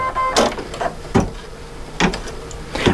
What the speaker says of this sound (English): if I keep it pressed, the machine's going to stitch pretty slow